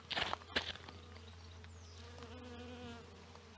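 Bees buzz steadily at close range, a continuous droning hum with a few louder rustling bursts near the start, outdoors in Cornwall.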